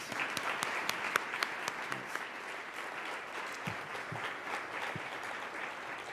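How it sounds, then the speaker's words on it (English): Audience at a workforce development panel forum applauds steadily and fairly quietly for several seconds, dense clapping with a few sharper claps standing out. "Let's have a round of applause."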